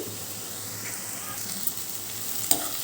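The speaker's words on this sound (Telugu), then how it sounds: "ఉల్లిపాయలు చక్కగా గోల్డెన్ రంగు కలర్ వచ్చే వరకు వేయించుకోవాలి" Onions sizzling in a pan until golden for a mutton blood curry, a steady close frying hiss with a few faint stirring clicks, no voices.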